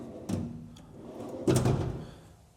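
A large bottom drawer on a Sonic MSS storage cabinet slides and thuds twice, each a rumbling roll ending in a solid knock, heard close with no talking.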